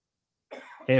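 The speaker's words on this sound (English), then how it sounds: "Gonna have a coughing spell for a second. Pardon me" After a moment of silence, a couple of harsh, close coughs erupt abruptly, the second one louder and more voiced.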